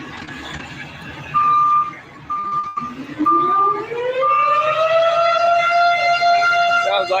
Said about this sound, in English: Sounds like it might be striking out a second alarm.